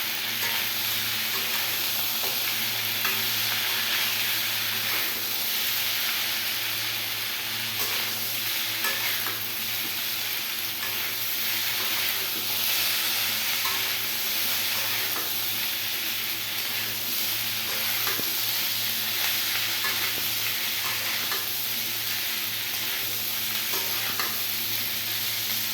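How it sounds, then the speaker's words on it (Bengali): Cauliflower and potatoes stir-fried in a spice paste give a steady, close sizzle with continuous scraping and stirring throughout, and no voices. "এই যে ফুলকপি আলু সব কিছু একসাথে আর একটু কষিয়ে নেব"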